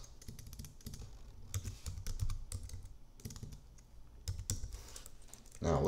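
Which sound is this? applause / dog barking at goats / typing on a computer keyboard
typing on a computer keyboard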